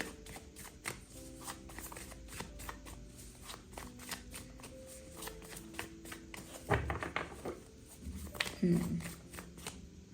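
Tarot cards shuffled by hand in a quiet room, a steady run of soft papery riffles and flicks, close and moderately loud, with a couple of sharper bursts near the end; background music hums softly underneath.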